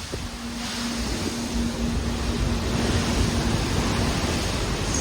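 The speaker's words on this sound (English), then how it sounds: "these waves are big" Big ocean waves surge around a boat near Antarctica, a loud, steady wash of water and wind buffeting the microphone, with a faint tonal hum running underneath.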